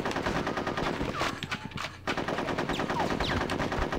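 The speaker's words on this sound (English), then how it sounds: "I'm gonna shoot them. Which I can easily do by just shooting their heads." Rapid machine-gun fire in Conker's Bad Fur Day, a World War-style squirrel battle, with dense continuous bursts that briefly dip and then resume at full loudness.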